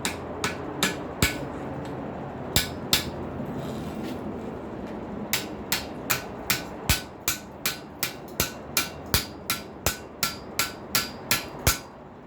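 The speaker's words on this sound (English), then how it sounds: "Let's all go inside try it right here on the edge of the anvil." A hammer strikes hoof nipper spike head tongs on the edge of an anvil in a series of sharp metallic blows, spaced irregularly at first and then falling into a fast, steady rhythm, loud and close.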